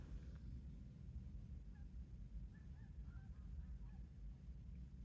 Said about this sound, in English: And I think that's geese.